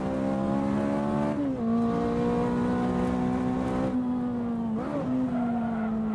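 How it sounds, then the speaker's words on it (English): High-powered car accelerating on a canyon road in a driving game, a loud close engine whine climbing in pitch, dropping at gear shifts and climbing again, with a brief tire squeal. "If you really want to wind up a high-powered car all the way up, this is probably the best place on the map to be able to do it."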